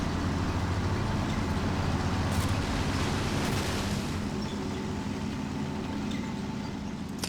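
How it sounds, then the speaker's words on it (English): German tank engines approach in the Men of War: Assault Squad 2 game, a steady low mechanical rumble and droning roar that holds at a constant level throughout. "Listen to those engines."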